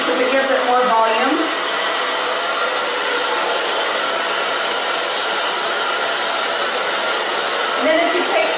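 A hair dryer blows steadily and loudly while hair is styled with a round brush, a continuous near whoosh that holds for the whole stretch, with faint brush handling at the start and end.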